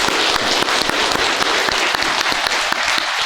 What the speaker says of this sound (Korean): 우리 인사할 때 박수하겠습니다